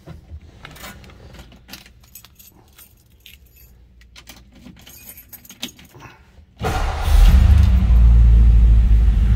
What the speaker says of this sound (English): Let's go ahead and start this one up so you can hear it run.